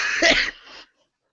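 A single short, harsh cough burst, close and fairly loud, tailing off into a fainter breathy exhale before silence.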